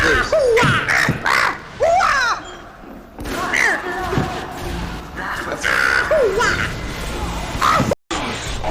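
A human voice mimics Angry Birds cartoon squawks with a string of rising and falling cawing cries and chirps, interrupted by thumps and crashing game noises, loud and close to the mic.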